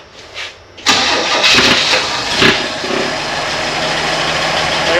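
A Chevrolet Nova engine cranks briefly, then catches with a loud burst and settles into a steady, even idle that runs on alone, close and loud.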